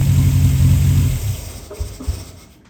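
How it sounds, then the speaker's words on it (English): A car engine idling at about 900 RPM with a steady low rumble that fades and thins out over a few seconds, ending with a couple of faint knocks. "So it's idling at about 900 RPM,"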